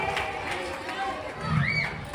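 Applause from a school audience at a Teacher's Day celebration, a steady wash of claps and crowd chatter running throughout, with speech mixed in.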